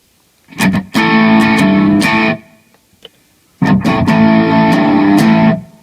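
A rock guitar tone from a Digitech TRIO band creator pedal plays two loud distorted chord phrases, each struck with short picked hits and then held ringing, separated by a brief near-silent gap.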